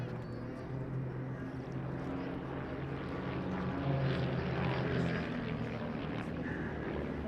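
A Grob Tutor light propeller aircraft drones faintly overhead while flying a barrel roll at an airshow, a steady distant engine hum that swells slightly midway, with wind and crowd ambience.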